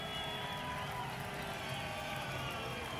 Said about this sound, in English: A few boos, but for the most part, a lot of cheers